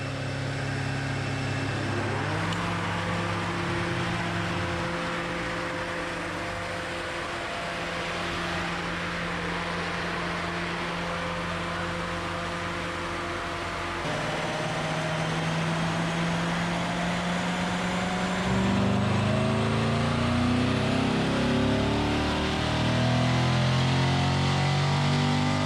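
A car engine on a dynamometer in a shop during a full pull, a steady loud drone whose harmonics climb as revs rise, stepping up through gear changes near 14 and 19 seconds and holding strong to the end.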